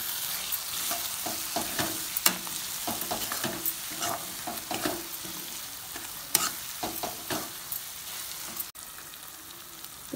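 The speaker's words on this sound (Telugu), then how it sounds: "కరివేపాకు వేసి కొంచెం వేగనివ్వాలి." Curry leaves frying in hot oil for a village-style chicken fry, giving a steady close sizzle broken by repeated sharp scraping stirs and an occasional louder pop, with no voices.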